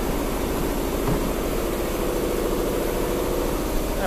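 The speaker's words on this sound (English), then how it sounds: "Now there goes the air compressor." An air compressor runs in a workshop where a Ski-Doo XP engine is being built. It makes a steady, moderately loud mechanical drone with a low rumbling hum throughout, and no voices.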